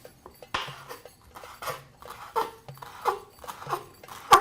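Green onions chopped on a cutting board with a knife, a series of irregular, sharp close taps and thuds over a quiet background.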